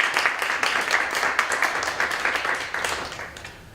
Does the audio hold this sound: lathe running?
no